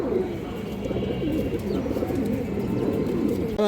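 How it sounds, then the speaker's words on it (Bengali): A female pigeon coos nearby in a low, continuous murmuring run, with faint background noise and a brief sharper sound at the end. "একটা মাদি কৌতার অনেক সুন্দর একটা মাদি কৌতা"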